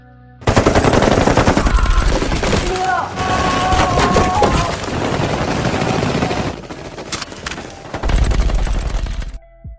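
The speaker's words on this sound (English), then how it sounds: "Until finally they all shot each other, causing casualties on both sides." Gunfire in a film shootout scene, with loud, near-continuous automatic bursts and scattered single shots over several seconds, along with a soundtrack bed and brief pauses between volleys.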